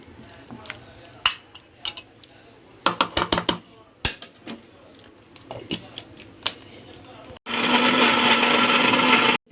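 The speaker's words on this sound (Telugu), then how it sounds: "ఇప్పుడు దీన్ని మనం మిక్సీ చేసుకొని గ్రైండ్ చేసుకుందామండి" A mixer grinder whirs loudly and steadily for the last couple of seconds, grinding tomato and coriander chutney, after scattered clicks and clatter of the jar being set up.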